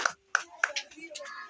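A few sharp, close hand claps ring out in quick succession, with a voice speaking briefly around them during a quiz contest.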